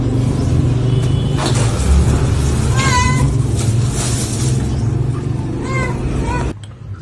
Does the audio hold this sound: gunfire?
no